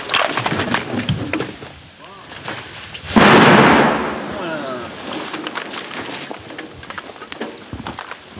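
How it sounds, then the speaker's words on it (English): A loud booming artillery shell blast erupts midway in the Kursk battle zone, rumbling as it fades, with voices talking before and after and birds chirping faintly in the background. "The shells are starting to fall."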